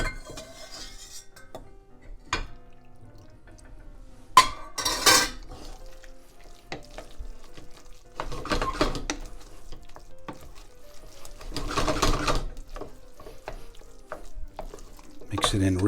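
A spoon stirring saffron risotto alla Milanese with broth in a pot, heard as scattered scrapes and clinks against the metal and several louder bursts of stirring over a quiet background.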